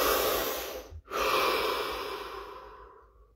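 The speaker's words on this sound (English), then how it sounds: "Deep breath." A single deep, slow breath during a guided body-scan relaxation, a long airy inhale, a brief pause, then a drawn-out exhale that fades quietly, with no talking.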